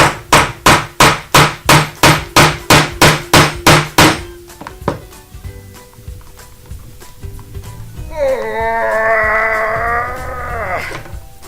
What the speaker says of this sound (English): we're just going to use these brad nails I got, and we're just going to nail a little hole